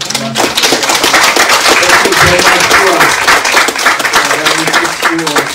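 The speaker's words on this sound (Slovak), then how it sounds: "Ešte raz potleskom" Audience applause at a talk about living alongside bears in Slovakia, sustained dense clapping that fills the whole stretch, loud and close, with a voice speaking over it.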